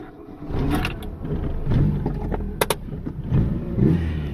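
A classic car engine rumbles and revs nearby, its deep throaty tone swelling and easing in waves, with a couple of sharp mechanical clicks.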